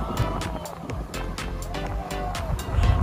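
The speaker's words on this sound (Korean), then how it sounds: "수상레저 바나나 보트를 즐겨보시면 어떨까요?" A banana boat speeds across the sea off Jinha Beach in Ulsan, with steady rushing water and wind noise, repeated splashes of spray and a rising roar near the end.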